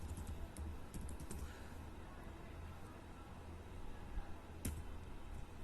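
Computer keyboard keys click close by as keyboard shortcuts are typed into an Excel spreadsheet, a loose run of light taps with a few sharper strikes over faint room noise.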